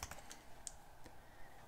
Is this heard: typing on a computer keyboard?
yes